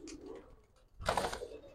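Giribaj and colored pigeons for sale coo close by in a couple of brief bursts, one low call followed by a louder, fuller coo, with no talk over them.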